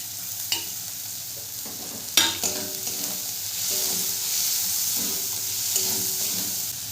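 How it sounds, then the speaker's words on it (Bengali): Onion, ginger and garlic sauté in a pan for a Bengali egg chop, a steady hissing sizzle broken by a few sharp scrapes and clinks of a spatula stirring, close up with no talking. "পেঁয়াজ, আদা, রসুন ভালো করে আমি কষিয়ে নেব।"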